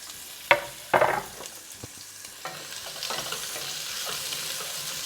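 Cumin seeds and onions frying in a few tablespoons of hot oil in a pan, with a couple of sharp clatters as they go in, then a soft, steady sizzle and occasional stirring, close up and without talk.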